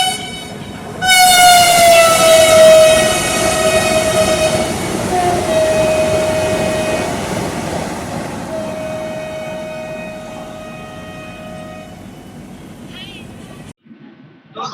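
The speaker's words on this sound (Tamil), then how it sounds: "கோயம்புத்தூர் டு சென்னை போற இன்டர்சிட்டி வந்தே பாரத் தான் கிராஸ் ஆச்சுங்க" A Coimbatore–Chennai Intercity Vande Bharat express train rushes past close by, a long sustained horn blaring over the heavy rumble and clatter of wheels, which fade briefly before the clip ends.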